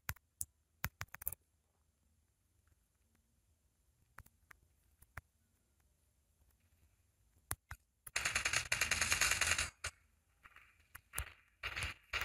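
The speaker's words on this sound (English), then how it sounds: "Geez, sentry gun." A sentry gun in the Call of Duty Mobile free-for-all game lets off one dense, loud burst of automatic fire lasting under two seconds, with scattered sharp clicks and shots before and after.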